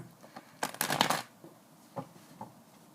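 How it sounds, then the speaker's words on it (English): Tarot cards are shuffled close up, starting with a short riffle and a dense burst of flicking, followed by a few lighter taps and slides as the deck is squared. "Just get them all broke up and nice and shuffled up."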